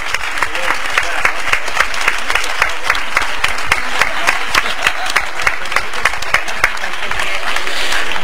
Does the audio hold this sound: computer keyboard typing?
no